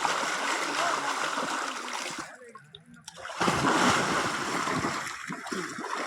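A person jumps into a forest stream or pool: rushing, splashing water fills the clip, briefly drops away, then surges back loud and close as someone hits the water, with voices talking over it.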